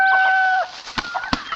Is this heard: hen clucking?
yes